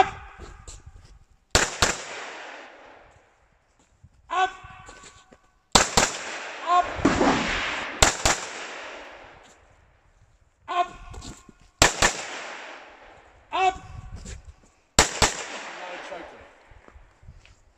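Rifle shots fired from a 10-round magazine at an outdoor range, about ten sharp cracks in separate groups with short pauses between them, loud and fairly close, with speech in between.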